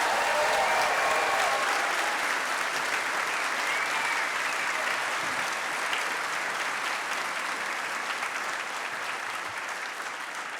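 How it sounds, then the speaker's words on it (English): Sustained applause from a large audience at a medical school commencement ceremony honoring the graduating class, a dense steady wash of clapping that fades slightly toward the end. "How about a round of applause for the class of 2024?"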